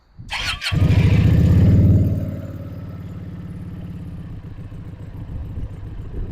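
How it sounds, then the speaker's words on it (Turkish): Yuki Funrider 125 twin-cylinder motorcycle engine starts with a sharp crank and catches into a loud, steady idle, a deep rumbling throb that settles slightly quieter after the first seconds, heard alone with no talk. "Motorun çok güzel bir sesi var gerçekten. Böyle gürül gürül çalışıyor."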